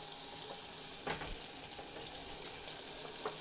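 Softly crackling melted butter in a pan, a faint, steady sizzle broken by a few small pops and light scrapes.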